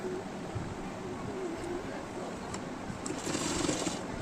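A sewing machine stitches together the front and back shoulder seams of a lace-trimmed kurti, giving a faint, continuous mechanical whirr with a slightly busier burst near the end.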